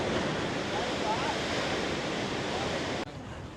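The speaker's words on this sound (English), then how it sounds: "Seems to be a bit further out the waves now" Ocean waves at Nazaré, Portugal, roar as a continuous broadband wash of surf heard from a distance, with wind buffeting the microphone and no clear individual breaks.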